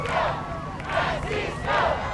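A large crowd cheers and clamors for Pope Francis during his visit to the United States, a loud, continuous roar of many voices with swelling shouts that rise in waves.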